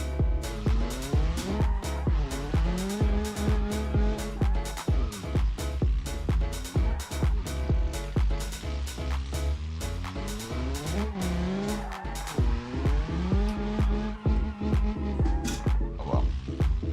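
Tires squeal repeatedly as a car in BeamNG struggles to spin donuts, with the engine revving loud and steady under long, wavering screeches that rise and fall for the whole stretch.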